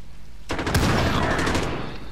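Video game gunfire in Modern Warfare hardcore mode: a sudden burst of rapid automatic shots that starts abruptly and keeps hammering steadily, loud and close, with no clear talk over it.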